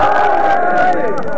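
Majlis audience shouting a religious slogan in unison, a loud sustained chorus of many voices rising together and trailing off over about a second and a half, close and forceful.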